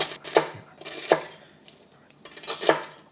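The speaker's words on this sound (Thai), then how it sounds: "เสียงแคปหมูแบบฟูกรอบดีมาก" Three crisp crunchy cuts, a knife snapping through brittle fried pork skin against a board, evenly spaced and close.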